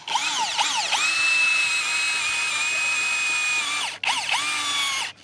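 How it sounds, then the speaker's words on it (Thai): A power drill whines at high speed drilling a pilot hole in wood, steady for a few seconds, briefly stops, then spins up again close by. "เอาสว่านนำครับ สว่านนำไปก่อนนะครับ"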